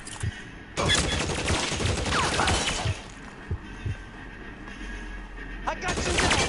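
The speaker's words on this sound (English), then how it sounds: "You're shooting at me. Getting shot at, getting shot at." Enemy gunfire aimed at the player in the crime game LA Noire, loud rattling bursts of shots and impacts in long stretches with brief lulls, close and harsh.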